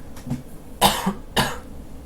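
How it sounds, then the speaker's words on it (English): A few short, harsh coughs come in quick succession, close and dry, with a softer throat sound between them. "I'll probably be coughing a lot during the stream"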